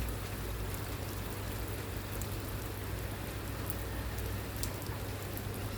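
Steady rain in the United Arab Emirates, a dense, even hiss of falling drops with faint nearby patters, continuous and alone throughout.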